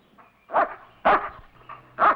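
A police dog barks three times in sharp, evenly spaced bursts, close and loud, with quiet pauses between each bark.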